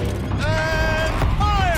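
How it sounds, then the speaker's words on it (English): Tank turret in a video game rotating, a continuous mechanical whir with creaking, ratchet-like clicks and rising tonal whines, close and steady throughout. "Rotate turret!"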